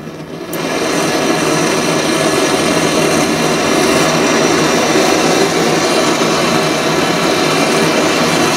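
A gas torch roars steadily and loudly close by, heating a small metal workpiece for soft soldering while building a gauge 1 live steam model, a continuous broadband hiss with no pauses.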